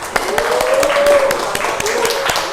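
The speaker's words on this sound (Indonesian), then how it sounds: "Beri tepuk tangan" Classroom applause during a microteaching lesson: scattered hand claps with distinct sharp strikes over a voice talking through them.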